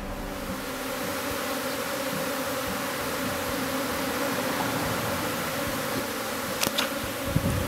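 Japanese honeybees flying in the air around a backyard hobby hive, making a steady, dense buzz that fills the whole stretch, with a couple of brief clicks near the end.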